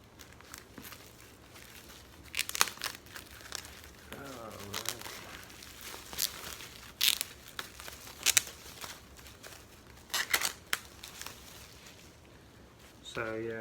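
Plastic packaging on a vinyl record crinkles and tears in scattered bursts, with brief quiet talking between the rustles.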